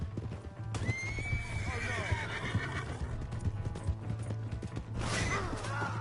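Horse in Red Dead Redemption II neighing loudly, then whinnying again near the end, with scattered hoof clops and game effects underneath and someone shouting in between.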